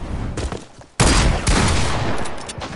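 Gunfire in a first-person shooter game, a sudden loud burst of rapid shots that keeps rattling on as a dense, sustained fusillade.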